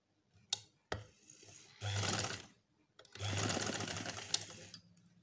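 Sewing machine stitching a pocket onto a ladies' kameez, in short separate bursts of rapid mechanical stitching broken by brief clicks and pauses, close and fairly quiet.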